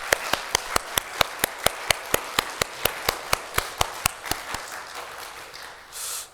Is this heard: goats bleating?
no